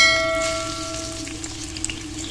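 Sliced onion goes into half a cup of hot oil and fries with a steady close hiss. A faint ringing tone fades out at the start.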